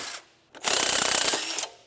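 A ratchet clicks rapidly at close range, loosening the sway bar mounts on a Kawasaki Brute Force 750 ATV in one burst of about a second after a short pause.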